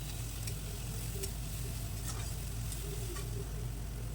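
A cumin and coriander spice paste is stirred in a frying pan as fish curry cooks, giving a steady close sizzle with soft scraping strokes of the spoon.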